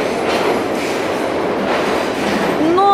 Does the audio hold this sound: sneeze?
no